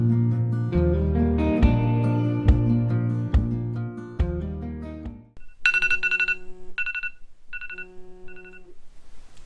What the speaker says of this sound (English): Jerry, see if you answer your phone